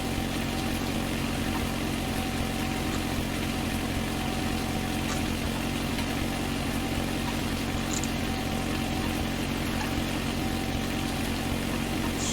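Steady drone of a 5610 tractor engine pulling a David Brown plough through grass, a constant even rumble with no breaks, heard from nearby at a moderate level with no talking.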